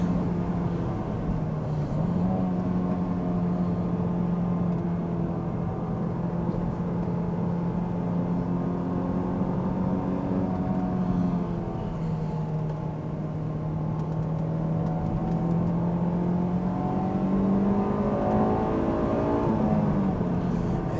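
A Honda S2000 AP2 engine with a K&N aftermarket intake drones steadily at a throaty, even pitch, out of VTEC, easing slightly lower and higher as the revs shift, loud and close throughout.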